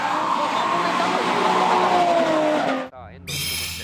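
Drift car slides through a corner at a D1 Japan championship event, loud sustained tire squeal and engine roar that cut off abruptly, followed by a commentator's voice over distant track noise.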